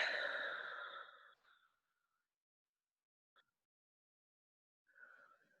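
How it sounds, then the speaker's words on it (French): A deep, slow exhale during a guided sophrology breathing exercise: one soft, breathy outflow of air fades over about a second, followed by quiet and a faint later breath. "Et inspirez et de nouveau expirez."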